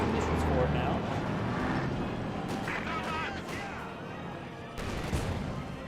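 Heavy tank gunfire from a Panzer IV in Company of Heroes 2 booms in broadband bursts amid other battle noise, with a commentator talking over most of it.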